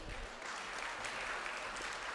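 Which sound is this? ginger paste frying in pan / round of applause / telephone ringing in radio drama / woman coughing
round of applause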